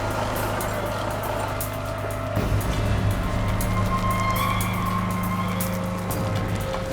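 A heavy truck slowly creeping ahead while hauling a house off a flood-hazard site, a steady low engine rumble with shifting tones and a brief surge of louder mechanical noise midway.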